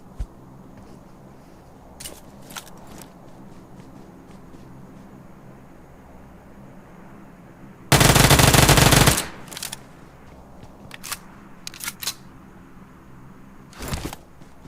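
A single loud, close burst of automatic gunfire roughly a second long cuts through quiet battle-royale ambience in BGMI, with a few faint distant shots and clicks scattered before and after.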